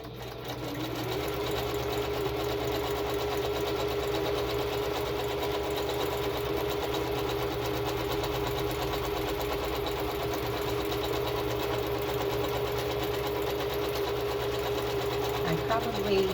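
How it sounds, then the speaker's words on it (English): A sewing machine stitching a zigzag runs continuously with a steady mechanical whir and rapid needle rhythm, loud and close, stopping near the end. "Probably haven't been in frame with my sewing machine here, but I'm just sewing a straight zigzag stitch"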